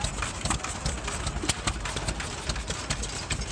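An old Galloway stationary engine chugs at an antique engine show in Arizona with a steady, regular beat of sharp knocks, close by and moderately loud, over a low rumbling background.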